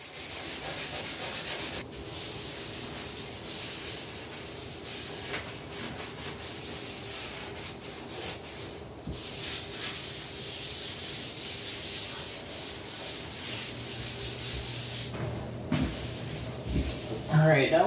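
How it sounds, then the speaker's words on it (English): A wet scrub pad rubs back and forth over a freshly poured epoxy countertop in a bathroom vanity project, giving steady close scuffing strokes with short pauses and a brief knock near the end. "using just a scrub pad that's kind of all wet, just kind of rub it down"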